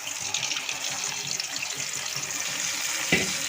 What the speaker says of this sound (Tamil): ஒரு எண்ணெயிலேயே நம்ம எடுத்து வச்சுருக்க புளி கரைச்சல் அதில் சேர்த்துக்கலாம்